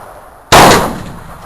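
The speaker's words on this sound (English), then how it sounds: "What are you shooting at, Justin?" A single loud, sharp gunshot cracks at an outdoor shooting range, followed by a short decaying echo tail.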